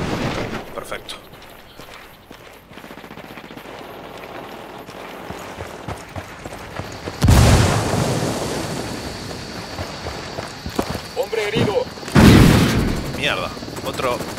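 Two loud, booming helicopter explosions burst out several seconds apart amid quieter game noise in Ghost Recon Wildlands, each decaying into a rumbling wash.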